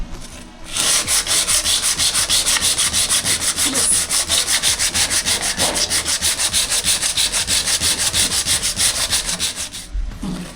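Rapid, rhythmic power sanding of sticky footprints on a wooden boat deck runs steadily for several seconds, close and loud, then cuts off.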